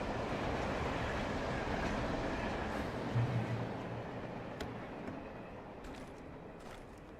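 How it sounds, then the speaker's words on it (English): A train rumbles past in the video game Alan Wake Remastered, a steady broad roar with faint clattering that gradually fades, with no talk over it. "Train."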